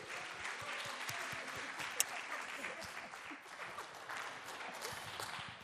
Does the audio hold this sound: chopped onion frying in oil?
no